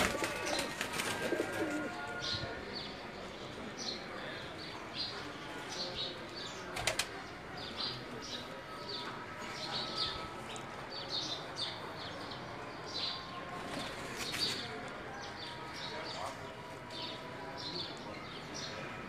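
Sialkoti pigeons coo softly in a loft while wings flap now and then, with a steady hum of background noise throughout.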